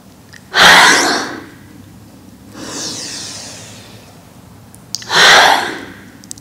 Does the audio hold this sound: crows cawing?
no